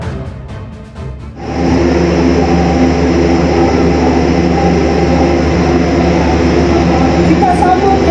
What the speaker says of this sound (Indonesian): Pesawat terbaru milik TNI Angkatan Udara Airbus 400M tiba di tanah air Senin pagi.